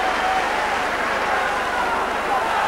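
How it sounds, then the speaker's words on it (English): Steady crowd applause rolls around a rugby league ground during a Hull KR versus Bradford match, a broad continuous roar of clapping with a commentator talking over it. "he'll get a good round of applause for that one"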